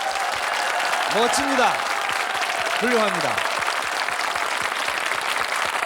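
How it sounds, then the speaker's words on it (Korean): Audience applause at a Korean army special forces event honoring female soldiers, steady dense clapping throughout, loud and close, with a presenter's voice speaking over it. "선배님들, 후배들을 위해서 큰 격려의 박수 한번 부탁드리겠습니다."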